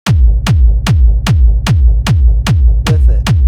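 Techno kick drum group with no sub-cutting EQ, a steady four-on-the-floor pulse of nine deep, boomy, loud kicks with long low tails that blur together, playing alone.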